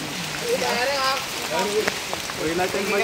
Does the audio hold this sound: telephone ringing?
no